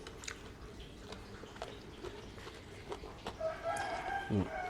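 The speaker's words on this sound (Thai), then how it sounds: "เสียงไก่ขันที่เราเข้าไป่อก" A rooster crows outdoors over a faint background of scattered knocks and rustles, with the main call arriving near the end, moderately distant and fairly quiet.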